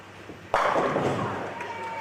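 A bowling ball crashes into the pins for a strike during an X Games match, one sharp impact followed by a clattering, fading rumble in a noisy arena.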